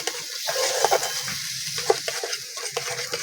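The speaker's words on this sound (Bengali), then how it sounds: "ভালো করে মিশিয়ে নিচ্ছি টক দইটা।" Yogurt being stirred into spiced masala with chicken liver and neck in a hot pan, a spoon scraping in steady strokes over a constant close sizzle, with a few sharper knocks against the pan.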